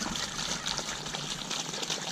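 Water runs steadily out of drip irrigation outlets in an orchard, a close, even hissing trickle and splash with no pauses, heard on its own without talk.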